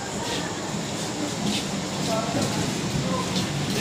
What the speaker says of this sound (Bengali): এই তো ট্রেন চলে এসছে